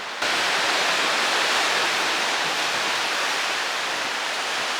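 Sea waves break on a black-rock beach on the Snæfellsnes peninsula in western Iceland, a loud, steady, close rushing roar with no pauses and no voices.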